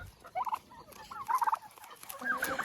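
Turkeys gobble while feeding from a held broom of wormwood, three short bubbling gobble bursts coming at moderate distance, fairly faint, over low background rustle.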